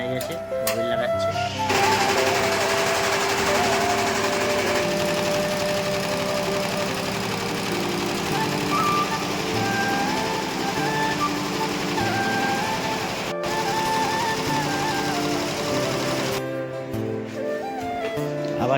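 A computerized embroidery machine stitches a new thread color after a bobbin change, giving a steady, rapid mechanical chatter with a low motor hum that runs nearly unbroken and fairly loud throughout.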